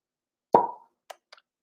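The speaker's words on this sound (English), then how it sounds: "That's a 12-year aged cork pop if I've ever heard one." A single hollow wine bottle cork pop from a 12-year aged cork rings out in quiet, followed by two faint small clinks or taps.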